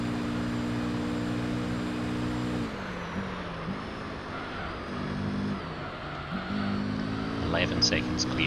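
A Honda NSX race car engine in Gran Turismo 3 holds a steady high-rev tone, drops as gears shift, then climbs again, loud and close with a voice talking over parts of it.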